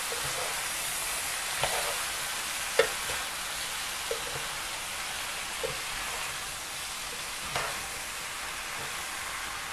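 Chow mein stir fry sizzling in a pan, a continuous hiss of frying broken by occasional soft clinks and scrapes as it is tossed and turned over, close and quiet, without speech.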